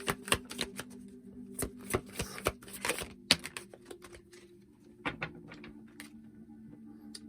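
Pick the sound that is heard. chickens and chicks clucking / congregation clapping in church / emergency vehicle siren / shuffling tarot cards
shuffling tarot cards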